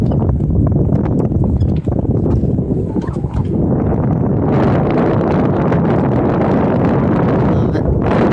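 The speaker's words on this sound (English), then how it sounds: "pirate flag blowing in the wind" Strong wind roars across a sailboat in gusts of around 45 knots, a loud, continuous rumbling buffet right at the microphone with faint rattles and flapping within it.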